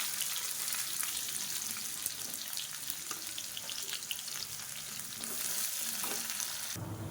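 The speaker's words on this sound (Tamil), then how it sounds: "இப்போ மீடியம் சைஸாக ஒரு பெரிய வெங்காயம் நீளமாக நறுக்குனதை சேர்த்துக்கலாம்." Long sliced onion frying in hot oil for sambar, a steady dense sizzle with faint stirring scrapes, moderately quiet and close, with no talking.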